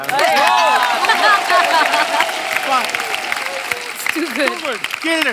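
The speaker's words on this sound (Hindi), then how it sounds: "एक बार ही ताली बजा दो इसके लिए" A crowd claps steadily throughout, with excited voices and shouts rising over the applause, close and lively.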